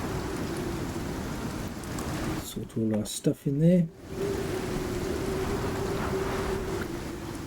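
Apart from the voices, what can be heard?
rain storm in the video game Icarus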